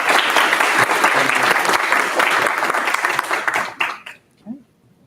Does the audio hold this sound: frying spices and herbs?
no